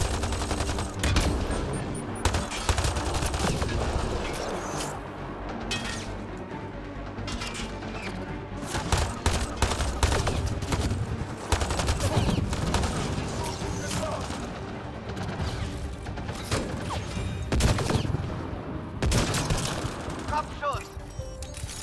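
Rapid gunfire from the sci-fi shooter Mass Effect: Andromeda, with bursts of automatic shots and sharp single reports packed throughout, alongside a player talking over the action.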